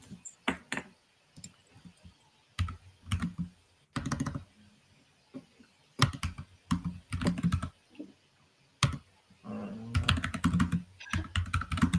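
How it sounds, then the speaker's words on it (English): Bursts of clattery typing on a loud computer keyboard, coming in irregular clusters of rapid keystrokes separated by short pauses, close and fairly loud. "Sorry if I hit my loud keyboard."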